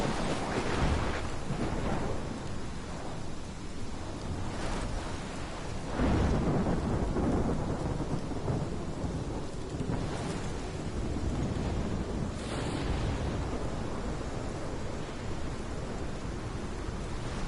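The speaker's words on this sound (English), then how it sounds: "This is my storm. I caused this." A thunderstorm in the Life Is Strange video game: steady heavy rain with several loud rolling thunder bursts spread through, no voices.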